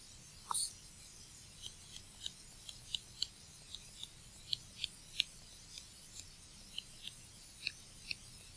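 Faint, quiet scratches and light taps of a pen writing numbers on paper, a sparse irregular series of small strokes in an otherwise still room.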